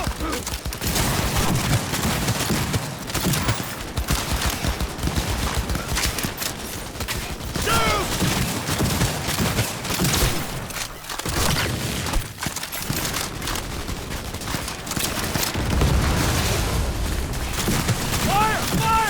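Chaotic Cyberpunk 2077 firefight with dense bursts of gunfire and booming impacts, loud and close, mixed with shouting voices and clattering action throughout.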